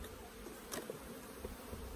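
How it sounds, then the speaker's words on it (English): Honey bees at an opened beehive produce a faint, steady buzzing hum, with a few brief closer buzzes and clicks. "I know I've got bees in the suit"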